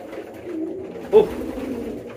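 A single male pigeon coos once, a short mid-pitched call rising out of a low, steady background hum, close and moderately loud, with no talking.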